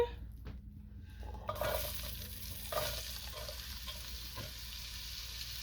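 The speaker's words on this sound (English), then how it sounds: "then add a large onion" A large onion drops into a hot pot used for braising short ribs, starting a steady sizzle and fry that swells after a brief quiet start, with a few light clinks of stirring over the bright crackle.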